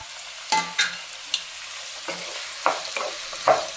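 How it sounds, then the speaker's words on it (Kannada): Chopped vegetables and tomato fry in a pan for hotel-style kharabath, a low sizzle broken by several distinct scraping stirs and clinks of the spatula against the pan, close and with no talk. "ಸ್ವಲ್ಪ ಡೀಪಾಗೆ ಫ್ರೈ ಮಾಡ್ಕೊಳ್ಳೋಣ"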